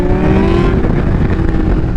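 A Kawasaki Ninja H2 motorcycle speeds along a road in Hudson, Ohio, its engine a loud, close, sustained roar with a rising tone that shifts as it races past.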